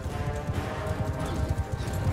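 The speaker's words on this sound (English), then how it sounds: "Probably a horse roaming around somewhere." In the medieval combat game Mount and Blade II Bannerlord, horse hooves clip-clop in a steady, moderately soft rhythm, like a horse walking nearby.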